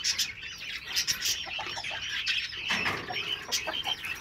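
Giant quails in a pen give faint, repeated chirps and soft clucking calls, with scattered wing flutters and scratching throughout.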